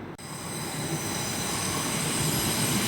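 A train at London Paddington station rolls past as a loud, steady rumbling roar. A thin high whine runs over the noise, which fills the whole stretch without pause.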